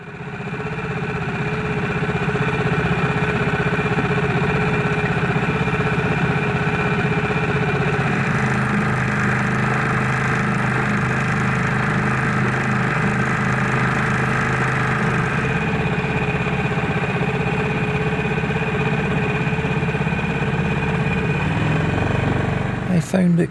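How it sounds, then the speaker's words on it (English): An outboard motor on a small boat on Loch Etive starts and runs steadily, a loud buzzing drone with a constant pitch lasting over twenty seconds before cutting off. "I started up the outboard and continued on my way"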